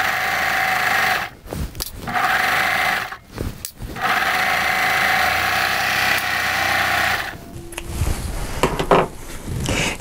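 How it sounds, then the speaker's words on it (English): A serger overlocks a wide 3-thread seam on curtain fabric, running in loud steady bursts with brief pauses in between, close up and with no talk. "I don't want to serge over a pin."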